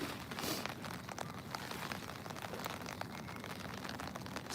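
Rain on an overcast day in Queenstown, New Zealand: a dense, steady patter of drops on nearby surfaces, continuous and fairly loud, with no voices.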